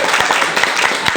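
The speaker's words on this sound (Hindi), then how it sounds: "आपके लिए ताली चाहिए अभी." Audience applause at a business presentation in India, a dense, steady wash of clapping from a crowd that fills the short stretch at even loudness with no talk over it.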